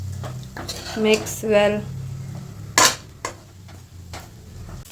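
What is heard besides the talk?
mixing coriander leaves into uppittu in a pan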